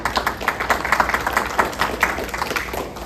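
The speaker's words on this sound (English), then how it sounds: "Let's give him another round of applause." Attendees at a school board meeting give a round of applause, a modest, uneven patter of individual claps from a small room crowd, moderately loud and continuing throughout without speech.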